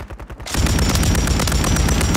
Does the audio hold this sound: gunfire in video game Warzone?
yes